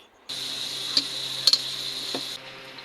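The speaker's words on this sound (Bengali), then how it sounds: "কড়াই পেঁয়াজ মরিচ তেল দিয়ে দেওয়া হয়েছে প্রথমে পেঁয়াজ মরিচ ভেজে নিবে" Onions and chilies start frying in oil in a home kitchen wok, giving a bright, even hiss that cuts in suddenly and stops after about two seconds, with a few light ticks and taps of a spatula and no talk.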